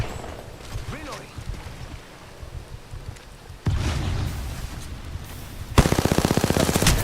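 Gunfire in the battle royale game Apex Legends: sporadic shots at first, then sudden heavy bursts and a fast, rhythmic automatic weapon stream at the end, with a player talking over it.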